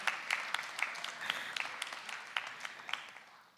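Scattered, faint applause from a small audience at a mock youth parliament address, with separate claps sounding at an uneven rhythm and fading away.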